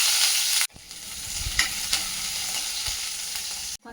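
Onion dropped into hot oil with spices in a pan sizzles steadily and close, with brief stirring scrapes, and the hiss cuts out sharply near the end.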